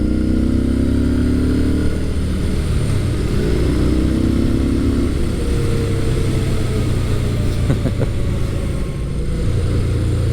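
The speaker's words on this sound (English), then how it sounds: "I could get some of that V-twin rumble" A V-twin motorcycle rumbles steadily at low RPM while riding through corners, a loud, continuous onboard engine drone with slight rises and falls in pitch and strong wind rush throughout.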